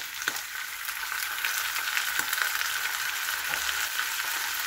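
Chicken frying in a pan as soy sauce goes in, giving a loud, continuous, close sizzle with a bright hiss that holds steady for several seconds and a few light stirring clicks.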